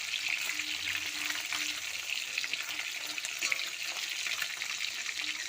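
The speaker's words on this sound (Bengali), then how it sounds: "মাছ ভাজা বসিয়ে দিলাম" Continuous crackling sizzle of fish frying in oil, close and even, with faint scattered pops and no talking.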